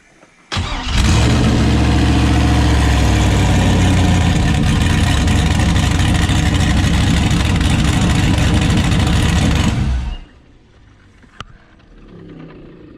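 A 6.0-liter turbo diesel truck engine starts abruptly and idles with a loud, steady rumble for several seconds, then cuts off, leaving quiet background.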